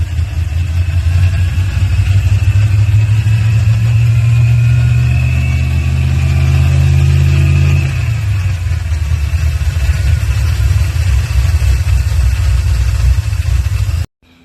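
A Chevrolet C-10 truck engine runs steadily after sitting four years, a loud, close, continuous idle with a deep low rumble that settles to a slightly lower pitch partway through, then cuts off abruptly at the end.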